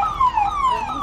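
An ambulance siren wails loud and close in a rising-and-falling sweep, alone with no voices over it, sustained through the whole short stretch.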